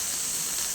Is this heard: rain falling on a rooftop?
no